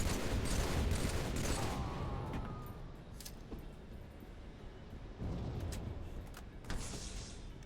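Scattered gunfire in a video game, a few quiet, distant shots spread over a low, steady background rumble.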